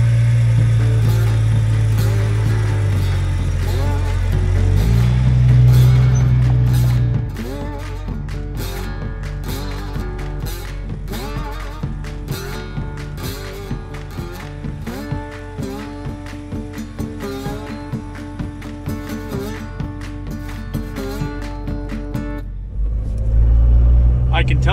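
An off-road buggy with a locked rear axle drives loudly up close, its engine rumbling and revving, with rattles and clunks from the chassis and a voice talking over it.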